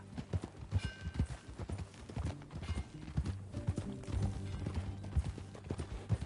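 Horse hooves clip-clop steadily in Red Dead Redemption 2, a close, quick rhythmic gait of a ridden horse that keeps up throughout with no talk.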